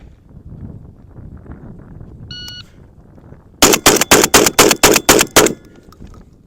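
A Mossberg 940 Pro shotgun fires Federal Top Gun number 8 shot in a rapid string of eight loud, sharp blasts evenly spaced over about two seconds, preceded by a brief electronic timer beep and quiet outdoor background.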